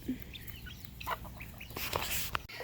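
Chickens cluck and murmur close by on a farm, a scatter of short soft calls overlapping through a few seconds against a low background.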